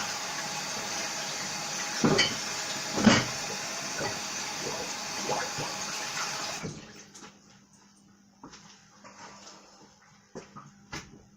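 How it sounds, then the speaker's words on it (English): Hands are washed under a running kitchen tap, a steady close hiss of flowing water with a few splashy bursts, then the tap cuts off, leaving faint drips and handling noises. "I'll just wash my hands."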